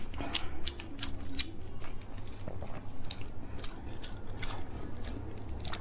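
A girl eating food during an eating challenge, with close, repeated soft bites and chewing crunches scattered irregularly over a low background hum.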